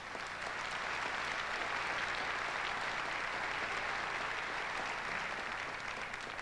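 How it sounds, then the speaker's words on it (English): Steady, fairly distant applause from the audience at a 1994 Cleveland-style polka hall of fame awards show, an even wash of clapping throughout. "I want you to give yourselves a round of applause"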